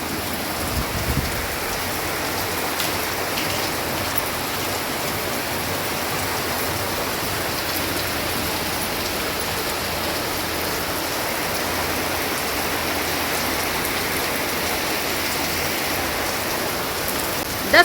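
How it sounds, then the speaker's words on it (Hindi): Heavy rain pours down at night in a steady, dense hiss that stays even and unbroken throughout, with no voices. "बारिश बहुत तेज़ हो रही है"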